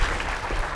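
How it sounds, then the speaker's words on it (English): A brief burst of dense clapping from an audience, loud and close, cut short after under a second. "A round of applause for our interlopers."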